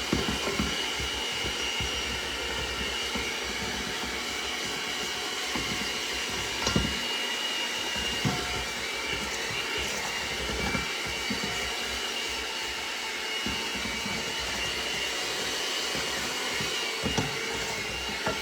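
An electric mixer whirs steadily through banana oatmeal cookie dough with cinnamon and nutmeg, a continuous mid-level drone with a few brief knocks, no voices over it.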